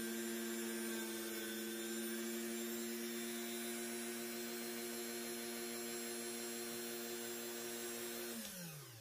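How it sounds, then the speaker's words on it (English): A coarse grit buffing wheel polishes rusted steel parts from an antique French lantern clock, giving a steady, loud motor hum with a high whine that runs throughout and begins to wind down at the very end. "we'll start with some pretty coarse grit buffing wheels and work our way finer and finer"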